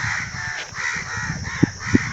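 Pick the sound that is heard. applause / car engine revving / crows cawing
crows cawing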